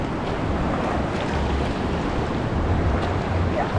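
Sea waves roll in at a rocky, sandy beach in Agno, Pangasinan, making a continuous broadband wash of surf with wind noise buffeting the microphone throughout, with no talk.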